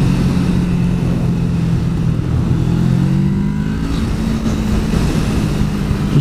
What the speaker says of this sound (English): I'm on my son's little Ninja 650.